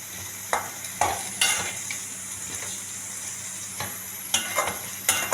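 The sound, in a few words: potatoes roasting in oil in a pan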